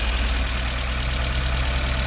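A Lada Niva (VAZ-2121) engine runs with a steady, loud idle. It has a low rhythmic throb and a slight knocking pulse and is heard up close. No one speaks.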